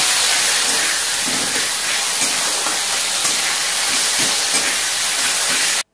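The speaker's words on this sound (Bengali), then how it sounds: "তার মধ্যে দেওয়া হয়েছে টমেটো। এটা আস্তে আস্তে কষে যাবে।" Tomato, ginger and chili sauté in a hot pan, giving a steady, close sizzling hiss that runs throughout with faint bubbling pops beneath it.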